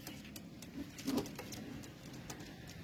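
Kalsera pigeons coo softly at close range, a low murmuring call that rises briefly near the middle, over faint background rustle and scattered light taps.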